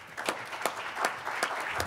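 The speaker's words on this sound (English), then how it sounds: "Let's give him a round of applause." An audience at a healthy-homes summit claps, a brief patter of scattered hand claps at moderate volume in a large room.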